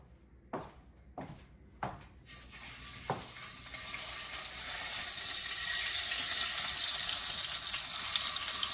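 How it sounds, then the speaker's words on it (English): Tofu frying in a pan on the stove, a few sharp clattering hits at first as pieces go in, then a steady bright sizzle that swells and holds, close and fairly loud. "we're going to fry it"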